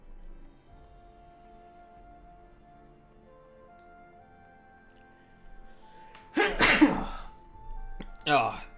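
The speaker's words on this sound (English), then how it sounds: "there's that sneeze" A player character's sneeze in the Final Fantasy XIV Heavensward game, a loud burst at about six and a half seconds with a second shorter burst near the end, over a quiet ambient game background with soft tones.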